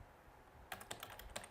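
Quick, light clicks of a computer keyboard being typed on at close range, a short irregular burst of keystrokes after a quiet moment.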